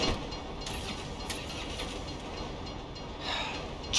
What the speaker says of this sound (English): If you were local, you'd know the train comes by right now.